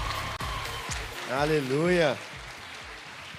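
Church congregation clapping in a steady patter through the clip, while a voice calls out a sung, rising exclamation over it in the middle.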